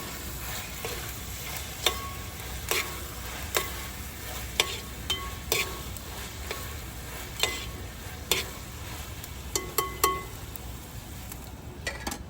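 Food frying in a pan outdoors in a Dubai park, a steady soft sizzle broken by scattered clinks and scrapes of a utensil stirring against the pan, close and without talk.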